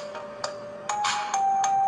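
Smartphone ringing from a remote play sound feature: a short electronic ringtone of bright repeated beeps and rising tones, close and clear over a quiet background.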